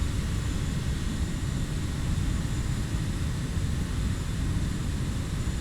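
A Kodiak aircraft engine in a flight simulator game drones on during a steep approach, a loud, steady, close hum with a broadband roar that holds even throughout, with no talk over it.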